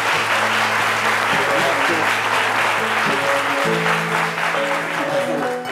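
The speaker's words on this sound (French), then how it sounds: "je pense qu'on peut applaudir notre maman" Audience applause for a Malian griot singer, filling a live broadcast studio with steady dense clapping over sustained low musical tones throughout.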